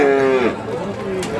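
A bull or cow lows at a Bangladeshi village cattle market in Dinajpur, one loud close moo trailing off, with crowd murmur faint behind.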